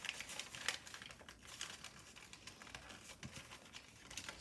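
Origami paper being folded for an aircraft carrier model, with soft close crinkling and crisp paper rustles in irregular bursts, quiet, with no voices.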